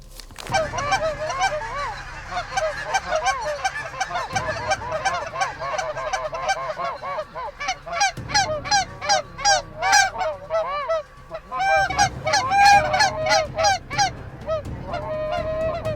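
A dense flock of geese honking loudly and continuously during a goose hunt, overlapping calls rising and falling with a rhythmic chorus of nasal honks throughout.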